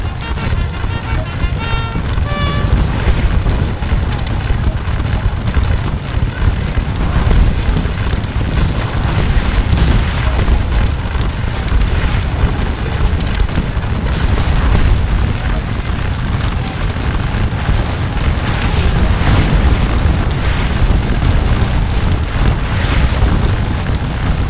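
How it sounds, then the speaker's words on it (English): Artillery shells burst overhead in the Napoleonic battle game Scourge of War: Waterloo. A loud, continuous rumbling din of booms and crackle fills the whole stretch without pause. "I tell them to move forward at the double as shells explode overhead"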